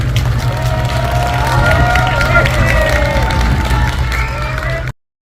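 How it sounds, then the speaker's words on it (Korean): An audience applauds and cheers for a 103-year-old philosopher professor leaving the stage after a lecture, a dense, steady crowd roar with voices and clapping mixed in, holding at full level for about five seconds before cutting off abruptly. "제가 내려가시는 동안에 다시 한번 뜨거운 큰 박수 부탁드리겠습니다"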